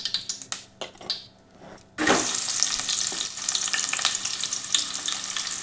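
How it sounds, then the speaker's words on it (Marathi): Vertically sliced onion drops into hot oil over a high flame. After a few quiet clinks it bursts into a loud, continuous sizzle that holds steady to the end, with no talk. "पहिले मी त्या तेलामध्ये एक उभा चिरलेला कांदा"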